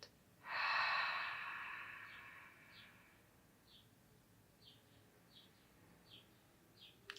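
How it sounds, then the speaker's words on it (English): A single slow exhale during a guided breathing exercise, a soft airy rush lasting a couple of seconds and fading away, followed by quiet with faint, sparse chirps in the background. "And breathing out."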